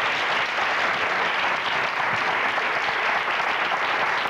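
A studio audience applauds a game show contestant in steady, dense, unbroken clapping that holds at full strength throughout, with no voices over it.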